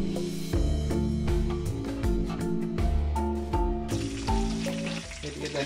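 Spices and pandan leaves fry in hot oil for a goat curry, giving a close, steady sizzle with the scrape and clatter of stirring throughout.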